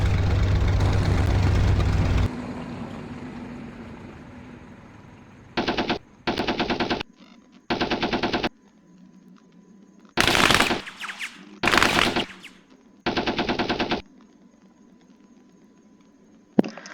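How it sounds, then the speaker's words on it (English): Hurricane fighter plane machine guns fire in Arma 3, several loud separate bursts of rapid gunfire cutting in over a low engine drone after the engine noise at startup falls away. "the same noise for the machine guns"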